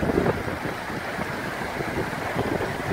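High-pressure water jet flushing a 1200 by 1200 square culvert drain filled with sand and seaweed after a big storm, heard as a steady, loud rushing wash of water that holds constant throughout.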